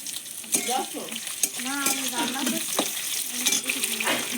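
Chopped onion frying in a pan for a soybean kofta curry, a soft steady sizzle with occasional spatula clinks, heard under someone talking.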